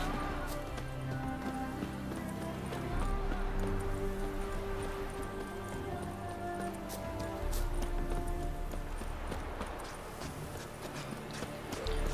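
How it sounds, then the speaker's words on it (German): Horse in the video game The Witcher 3, with steady clip-clop hoofbeats over a bed of game music and ambience, moderately loud and continuous throughout. "Holen wir mal unser Pferd."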